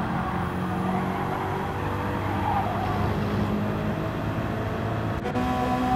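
A Gr3 race car engine in Gran Turismo 7 at Watkins Glen during an online Nations Cup race, a loud continuous drone holding a fairly steady pitch, with a faint sharp blip near the end.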